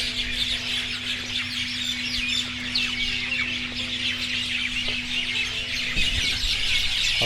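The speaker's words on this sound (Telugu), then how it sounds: "అమ్మా, ఎన్ని పక్షులు ఎక్కడి నుంచి వచ్చినాయి?" A large flock of birds, with chicken-like clucking prominent, keeps up continuous chattering and squawking around a food court on a train journey to Mysore, layered and busy throughout under a low steady hum, with no speech.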